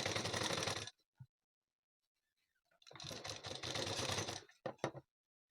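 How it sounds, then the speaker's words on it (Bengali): Sewing machine stitching a size 38 bra-cut blouse fabric, a loud steady run of rapid mechanical whirring that stops for a pause, then resumes in a second burst before ending with a few short clicks. "তো আমি ঘুরিয়ে ঘুরিয়ে সেলাই করে নিয়ে আপনাদের দেখিয়ে দিচ্ছি।"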